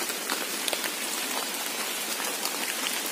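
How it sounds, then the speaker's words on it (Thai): Rain falling outdoors during mushroom foraging in the countryside, a dense, even hiss of drops pattering on surfaces, close and continuous with no voices. "โอ้ฝนตกแห้งครับพี่น้องครับ"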